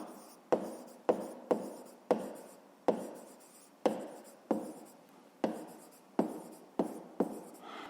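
A pen writing out a grade 5 math problem solution on paper, quick scratchy strokes in about a dozen separate bursts, each starting sharply and trailing off, close and quiet with no talk.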